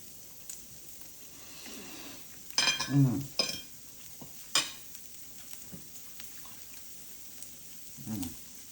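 Discount Japanese A5 Wagyu beef searing on an indoor Zojirushi electric grill, a soft continuous sizzle broken by a few louder tong scrapes and clinks as pieces are moved.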